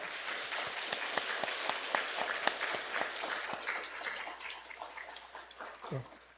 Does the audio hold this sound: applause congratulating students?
yes